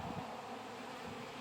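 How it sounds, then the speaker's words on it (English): Honeybees flying around an open 10-frame poly hive make a faint, steady buzzing drone with no talking. "I can't believe how many bees are flying around us."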